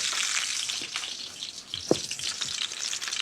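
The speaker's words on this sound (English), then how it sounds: "As soon as that hot oil hits the liquid that's in the flesh, it starts to sizzle more" Salmon fillet sizzling in hot oil in a pan for crispy-skin salmon, a steady bright frying hiss with small pops and one sharper spatter near the middle, close and fairly loud throughout.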